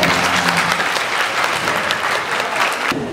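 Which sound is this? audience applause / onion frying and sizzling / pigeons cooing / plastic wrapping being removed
audience applause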